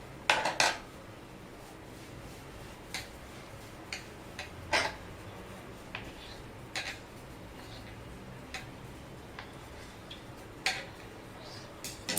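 Dough for puri is cut into balls, with a series of faint sharp clicks and taps of a utensil against a surface, spaced irregularly over quiet background.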